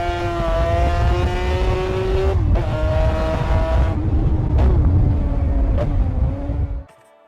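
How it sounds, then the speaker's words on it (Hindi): A Yamaha RD350 air-cooled two-stroke parallel twin from the 1970s revs loudly and close, its buzzy engine note rising and falling through several throttle blips before cutting off. "RD350 आती थी यामाहा की parallel twin air cooled engine के साथ"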